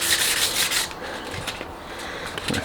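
Fine 1500 grit sandpaper rubs steadily on a surface during restoration work on a Mack cabover truck, a close, continuous scratchy hiss that is heaviest at the start and then eases into lighter strokes.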